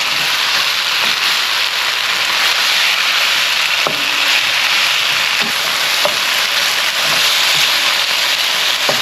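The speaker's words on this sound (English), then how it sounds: "Don't want to burn the gochujang. Stir it around." Pork steak coated in gochujang sizzles steadily in a hot pan while being stirred, a dense continuous frying hiss with occasional soft scrapes and clicks, close and fairly loud, with no talking.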